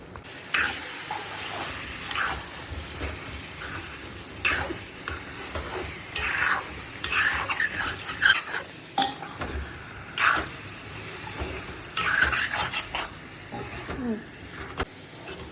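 Chicken frying in a pan, a soft continuous sizzle with frequent scraping and creaking stirs of a utensil at irregular intervals over about fifteen seconds, fairly quiet and close.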